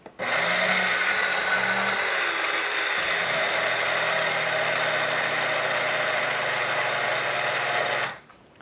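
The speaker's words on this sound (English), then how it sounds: "you basically just put it in your coffee grinder. You just give it a few swirls." A coffee grinder whirring through sesame seeds, a loud steady motor drone that starts abruptly, runs for about eight seconds with a slight pitch shift partway, then cuts off.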